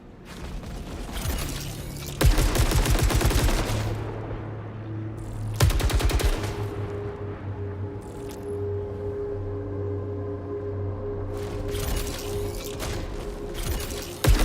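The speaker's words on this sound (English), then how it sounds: "an assault rifle. High-speed auto fire." An assault rifle in the run-based video game Saros fires in loud, rapid automatic bursts, with two long volleys and mechanical hums and tones sustaining between them, close and dominant.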